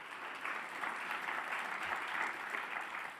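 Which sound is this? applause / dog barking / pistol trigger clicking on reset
applause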